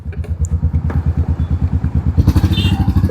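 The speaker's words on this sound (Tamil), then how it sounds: "பேக்கில் போய் அட சைலன்சர் மாற்றியாச்சு. சவுண்டு கேட்கும்னு நினைக்கிறேன் உங்களுக்கு." Motorcycle with a replaced exhaust silencer, idling close and loud with a deep, steady throbbing pulse, then briefly revving a little harder near the end.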